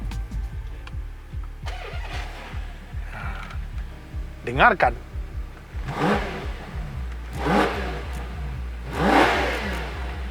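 A Ferrari Purosangue V12 engine starts with a rapid cranking rhythm, then revs loudly several times in rising, snarling bursts, with a voice speaking briefly between.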